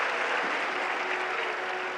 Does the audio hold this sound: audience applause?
yes